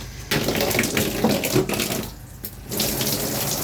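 Water runs steadily from a showerhead in a 2016 Solaire RV being flushed of pink antifreeze, a continuous close hiss with brief interruptions as the flow shifts.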